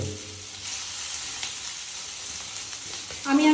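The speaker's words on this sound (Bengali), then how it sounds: "সাথে হালকা একটুখানি নাড়িয়ে এটাকে ভেজে" Onions sizzling in a hot pan while being gently stirred, a steady close frying hiss with soft scraping, ending in a brief louder clatter.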